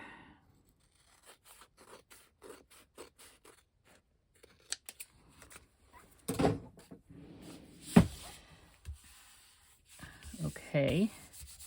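Scissors snip through envelope paper scraps in short, uneven cuts, each a crisp close slice with a rustle of paper between them, some bursts sharper than others and quiet pauses in between.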